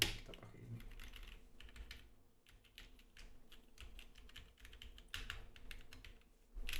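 Mechanical keyboard typing on a Hydra keyboard build with noticeable flex in the middle of the board, giving a steady clatter of keystrokes with bursts of faster typing, fairly close and clear throughout.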